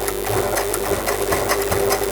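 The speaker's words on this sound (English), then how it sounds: "now that is ready to go into the sewing machine" A sewing machine runs steadily as it stitches a shoe upper to its lining, a close, loud, fast mechanical chatter with an even rhythm throughout.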